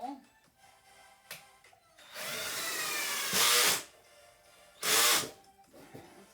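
A power drill drives a screw into a pre-drilled hole during carpentry work: one sustained whirring run of about a second and a half that strains louder near its end, then a short final burst as the screw snugs down.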